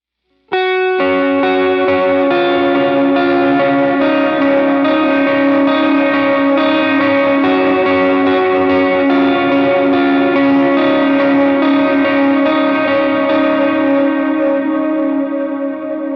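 A distorted electric guitar with a shimmering chorus effect plays the lead line, loud and dense, ringing on without pauses.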